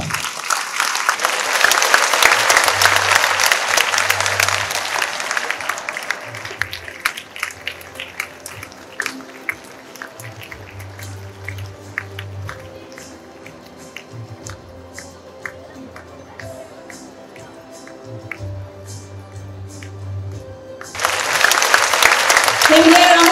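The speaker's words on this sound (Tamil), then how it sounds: "Can we hear a round of applause, ladies and gentlemen, and students?" An audience at a minister's speech and prize event bursts into loud, dense applause, which fades into a quieter stretch of voices and tones before the clapping swells strongly again at the end.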